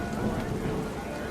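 Steady rain pours in the video game What Remains of Edith Finch, a dense, continuous hiss with a low rumbling undertone, constant and fairly loud throughout.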